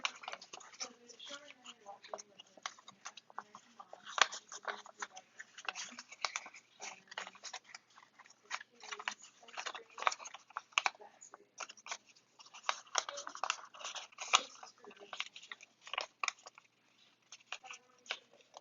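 Paper is creased and pre-folded by hand for a red flower origami tessellation, a close series of soft crinkles, snaps and rustles coming in uneven bursts, with quiet speech now and then.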